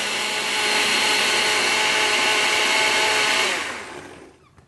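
A blender runs at full speed on chilled tomato soup with olive oil, a loud, steady, close whirring roar that holds for several seconds and then winds down and cuts off near the end.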